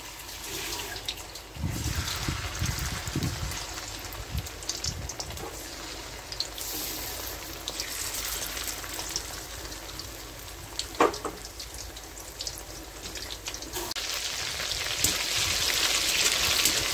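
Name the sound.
prawns frying in hot oil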